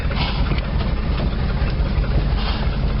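A 1986 GMC Jimmy K5 four-wheel drive idles steadily with a low, rumbling engine drone that is even and continuous, heard close without any talk.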